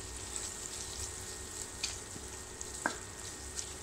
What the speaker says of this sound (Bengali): এখন মশলাগুলো ভাজবো।